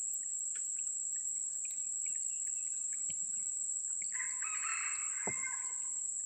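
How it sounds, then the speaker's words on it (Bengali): Wild jungle fowl crowing in the Sundarbans mangrove forest at dawn, a distant call rising near the end over a steady, shrill chorus of crickets and insects, with faint scattered bird chirps and no talk. "বন মোরগের ডাক আমরা শুনতে পেলাম।"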